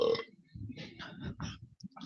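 A man burps right after tasting a coffee-scented IPA beer, a short low rasping belch that opens the moment, followed by quiet mouth sounds and faint murmuring close to the microphone.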